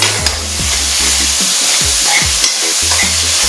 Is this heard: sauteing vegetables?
yes